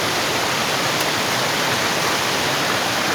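The Tat Hai waterfall in Khao Phra Wihan National Park roars in a steady, dense rush of water. The sound is continuous and fills the space, with no voices.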